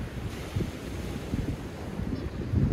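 Black Sea surf washes onto the black-sand beach at Sochi in May, a steady low rumble of waves with wind buffeting the microphone, swelling slightly louder toward the end.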